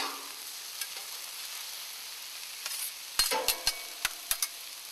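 Onions frying in a pan for veggie tacos give a soft steady sizzle, followed by several sharp close clicks and knocks of a spoon or utensil against the pan near the end.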